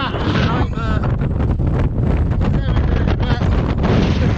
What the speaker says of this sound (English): It's really windy and the path is a nightmare.